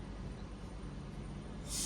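A loud burst of train brake air hiss rises at the very end over steady low rumble and background noise of a stationary train at Warrington Bank Quay station.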